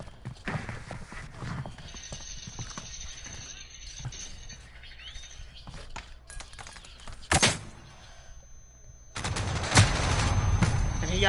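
Gunfire in a Call of Duty battle royale match: scattered sharp shots and short bursts over a busy game soundscape, with a louder burst near the middle and heavier firing toward the end.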